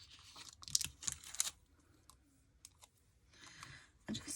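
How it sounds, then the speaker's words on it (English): Tape peeled off a surface nearby, a few quick crackling, tearing bursts at the start, a quiet stretch, then another rustling pull near the end. "I'm going to take my tape off again."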